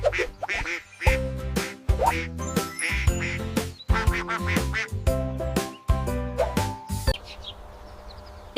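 A duck quacks loudly and repeatedly in rhythmic bursts, close by with no talking, and the series stops abruptly near the end.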